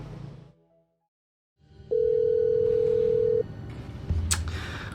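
A telephone call rings out: a steady single tone lasts about a second and a half after a quiet gap, then a faint rustle and background noise follow, with no one answering.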